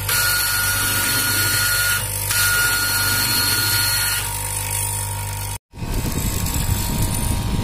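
A cloth cutting machine for garment work runs with a smooth, steady motor whine and hum. The sound cuts out briefly near the end, then restarts with a rougher buzz, and no one speaks.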